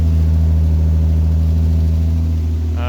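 An Austin Healey 3000 engine, fully warmed up, runs at a steady fast idle around 1500 rpm with a deep, even exhaust burble close by, alone without talk.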